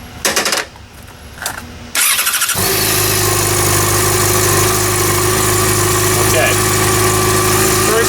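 A motorcycle engine, taught on while learning to ride, starts up after a short voice and a few clunks, then settles into a loud, steady idle that drones evenly to the end.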